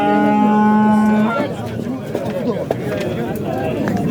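Cattle at a livestock market in Xachmaz, with a loud, sustained moo from a young bull calf at the start, then busy market hubbub and people talking close by.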